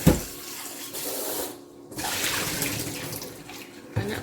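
Peeled boiled eggs rinsed under a running kitchen tap, with a steady close rush of water that briefly dips as the flow is interrupted, then resumes; no speech.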